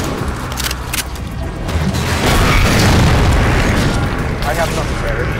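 Scatter shot weapon firing in Halo 4 Spartan Ops, heard as loud booming blasts with a sustained explosive roar building through the middle, mixed with game effects and players talking over it.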